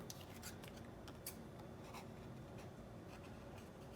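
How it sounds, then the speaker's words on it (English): Scissors snipping through paper to cut out a hand-drawn tessellation shape, a steady run of soft, close, faint cutting and rustling strokes with no talking. "we're going to cut it out"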